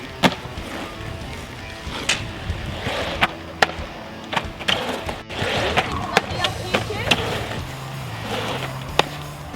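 Skateboard trick practice: a series of sharp board taps and clacks spaced irregularly over rolling wheel rumble, fairly close, with some talk mixed in.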